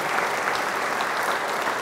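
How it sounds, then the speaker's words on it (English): A brief, even burst of crowd applause at a press conference honoring twelve community advisory council members, dense clapping with no pause. "let's give a big round of applause for the 12 members a part of that council"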